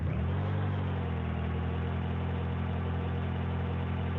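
A car engine started during a crankshaft position sensor check catches and settles into a steady, loud idle with a rich low drone that holds up close from start to finish.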